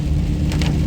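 Steady rain falls on a wet day in Columbia, Kentucky, a loud, dense wash of noise heavy in low rumble, with a brief brighter splash partway through and no voices.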